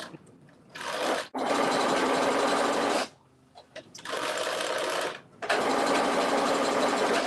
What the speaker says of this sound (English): I'm base stitching the edges now after I folded it over in half.